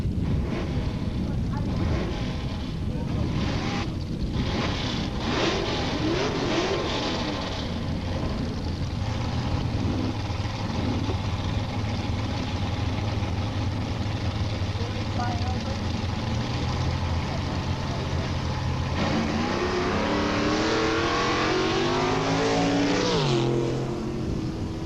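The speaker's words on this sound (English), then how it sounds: "Tony Rosillo goes through first with a 1078 at 119 miles an hour" Drag racing cars at Edinburg International Dragway in 1986 roar loudly for the full stretch, engines idling, revving and surging down the strip, with an announcer talking over the din.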